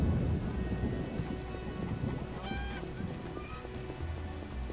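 Steady rain falls throughout a city scene in the video game The Witcher 1 Enhanced Edition, a continuous broadband hiss with low rumbling underneath and a few brief tonal chimes from the game layered on top.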